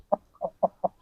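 An Aseel rooster being lifted from its cage gives four short, evenly spaced clucks, close and clear with no talk.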